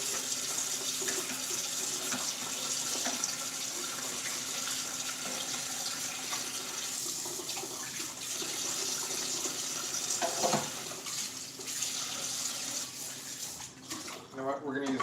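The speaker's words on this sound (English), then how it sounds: "We'll rinse this little spoon off." Kitchen tap running steadily as a small spoon is rinsed under it, a continuous close hiss of water splashing into a sink with faint clinks near the end.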